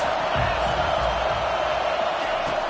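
A stadium crowd in the college football game NCAA 25 roars in a dense, sustained wall of cheering. The noise holds steady and loud throughout, with no clear breaks.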